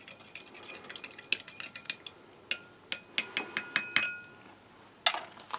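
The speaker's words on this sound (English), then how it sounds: "Give it a good stir." Spoon stirring a drink in a glass, about two-thirds full of water for a Canadian Army ration breakfast pack: rapid, bright metallic clinks against the glass in uneven bursts, close up and fairly quiet with no talking.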